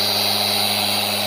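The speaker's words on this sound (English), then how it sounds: "he's gonna go over the top of the headlight with the porta cable, sanding it down" A Porter-Cable power sander with a 1000 grit pad whines steadily and loudly as it sands a wet Honda or Acura headlight, a constant high-pitched tone without breaks.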